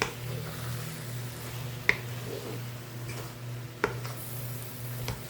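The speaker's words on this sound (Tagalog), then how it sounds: "nilagyan ko po ng konting sugar at haluin" Sautéed fermented mustard greens with tofu and egg are stirred in a pan after a little sugar is added, giving soft scraping and a low sizzle, with a few sharp utensil clicks against the pan.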